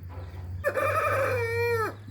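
A young rooster on a Tamil country-fowl farm gives one clear crow lasting over a second, loud and close, alone against a steady low background hum.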